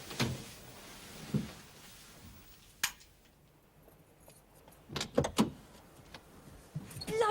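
Someone fumbles at a house door whose locks have been changed, giving scattered clicks, rattles and knocks of key and handle, with a sharp knock-like hit near the middle and a burst of rattling toward the end, close and fairly loud.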